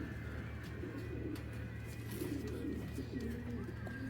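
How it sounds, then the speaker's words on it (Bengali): Giribaz tournament pigeons cooing up close, a soft continuous run of low, throaty coos over a faint background hum. "চলুন কবুতর দুইটা একটু দেখাই"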